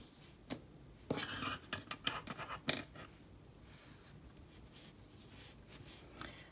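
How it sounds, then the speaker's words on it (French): Scissors snip through crochet yarn, with a burst of close, crisp cutting and handling clicks in the middle of an otherwise quiet stretch. "On coupe notre fil."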